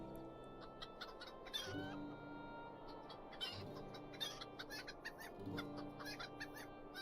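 Chickens cluck repeatedly in the LOTRO video game, in quick irregular bursts with occasional squawks over a steady in-game background hum; the calls come near and clear, with no talking.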